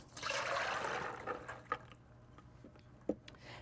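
Water pouring off cooked cannellini beans as they are drained, a gushing rush at first that fades into trickles and a few scattered drips and clinks, fairly quiet.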